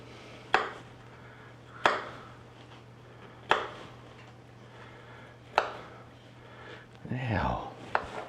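A knife chops broccoli stems on a board: five sharp, evenly spaced cuts about a second and a half apart, with softer handling noises between them.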